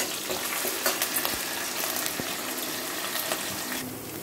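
Ginger garlic paste fries in a pan with curry leaves, giving a loud, steady sizzle and crackle. A few soft stirring clicks come through near the end.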